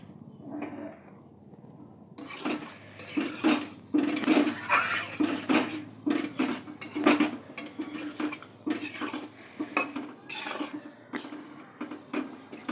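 A metal lid and cooking pot clank and clatter repeatedly in a home kitchen, a run of close, bright knocks and scrapes lasting several seconds after a quieter start.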